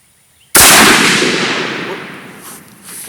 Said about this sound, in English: Oh, that was a primer popper.